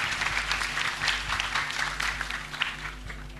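A seated audience applauds Mas Sabran at a gathering, steady continuous clapping over a faint low electrical hum, running unbroken throughout.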